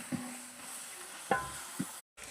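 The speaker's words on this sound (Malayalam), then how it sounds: "ഇതിൽ നമ്മൾ ഉള്ളിയും പട്ടഗ്രാമ്പും ഏലക്കയും ഇട്ട് നന്നായി ഇളക്കി" Onions with cinnamon, cloves and cardamom sauté in a pan for a home-style chicken curry, giving a soft steady sizzle broken by a few close stirring scrapes and clinks of the spoon.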